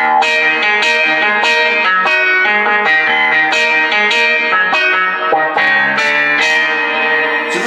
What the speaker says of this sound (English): like a wah-wah maybe.